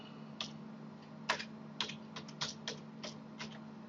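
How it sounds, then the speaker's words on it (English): Typing on a computer keyboard while naming a folder in Photoshop: about ten separate key clicks in an irregular rhythm, close and fairly soft, over a steady low hum. "I'm going to type in mounts and landscape."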